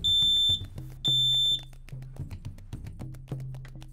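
A smoke alarm under monthly test gives two loud, piercing high beeps, each about half a second long, separated by a short gap, followed by quieter background clatter.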